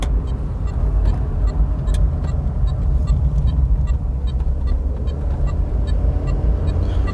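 A Peugeot 405 SLX with the TU5 engine climbs a slope, its engine droning steadily as the car moves, with faint cabin rattles and clicks.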